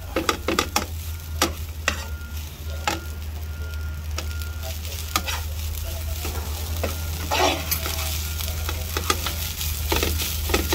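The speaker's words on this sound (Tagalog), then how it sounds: "Ihilamos po natin sa kawali na pinaglutuan ng bistek para masarap." Leftover rice is stirred and scraped through a pan still holding bistek juices, with a steady sizzle beneath repeated sharp scraping clicks of a utensil on the pan, close and continuous.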